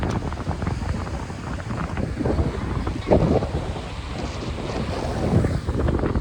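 Outdoor seaside ambience at Pondicherry beach, with strong gusty wind buffeting the microphone over a low rumble of surf, steady and loud throughout.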